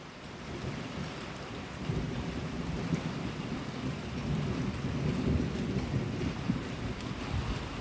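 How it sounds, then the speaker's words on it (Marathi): Steady rain pours down with a continuous hiss, and low rumbling swells underneath, like distant thunder rolling through a storm. "बघा असा पाऊस आहे"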